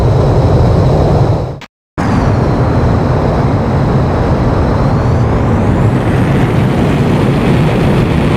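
Jet engine roar of a fighter plane taking off in the Ace Combat X video game, a loud, steady rumble that cuts out briefly near the start before resuming and holding strong to the end.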